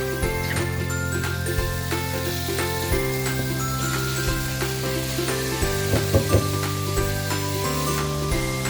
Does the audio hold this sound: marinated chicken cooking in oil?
yes